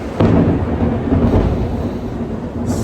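Loud, rolling thunder from a heavy storm in Abidjan, a deep rumble that rises sharply near the start and keeps grumbling for a few seconds, with rain hiss in the background and no voices.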